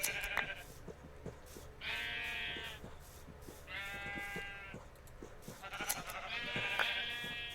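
Sheep in a block-building video game bleat several times in a row, fairly close, over a light background of clicks and game noise, with no talking.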